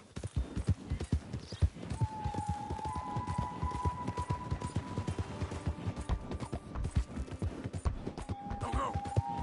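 Horse galloping in Red Dead Redemption 2, with steady rapid clip-clop hoofbeats thudding throughout over a faint tonal background, loud and close.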